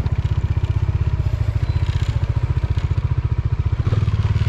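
A Bajaj Dominar 400 motorcycle rides off-road, its single-cylinder engine thumping in a fast, steady pulse close by, with rattles and light clatter over rough ground.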